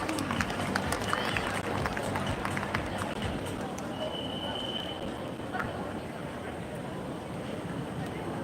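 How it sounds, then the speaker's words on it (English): Sustained audience applause at an alumni meet on the GNITS campus in Hyderabad: a steady wash of many hands clapping for several seconds, fairly even in loudness, with faint voices mixed in. "Everybody give a big round of applause."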